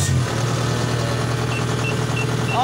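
A Kubota DC 70 combine harvester's engine idles just after servicing, a steady, loud mechanical drone with a fine rhythmic chatter, heard close and alone.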